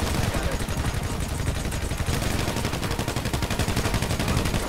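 Rapid automatic gunfire from a GTA 5 helicopter fight, loud and dense bursts filling the whole stretch with a steady crackling rattle and no talk over it.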